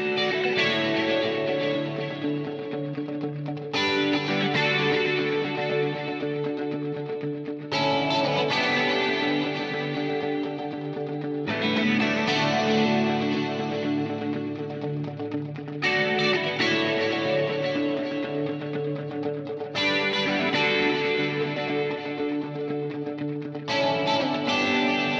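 Electric guitar through a Quad Cortex with two reverbs, two delays, flanger and phaser, driven by a captured IWAT DR504 amp: loud, lush, swirling sustained chords in repeated blocks of about four seconds, with no talking.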